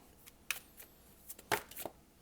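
Tarot cards shuffled and drawn from the deck in a few brisk, soft bursts of riffling and sliding, close up and fairly quiet, with no talking.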